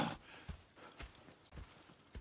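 Horses' hooves clip-clop at a steady walking pace in the Red Dead Redemption 2 video game, with roughly four soft, evenly spaced hoof strikes and no voices.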